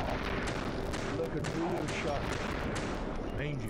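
Video game gunfire from the shooter Gun, played through an emulator: a string of sharp shots and booms mixed with game effects, fairly quiet and continuous.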